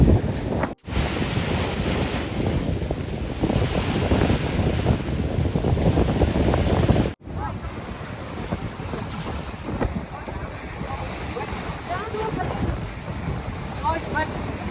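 Ocean waves washing in at a beach where the water reaches unusually close, a broad rushing surf heavily buffeted by wind on the microphone, loud and continuous, with a brief break partway through.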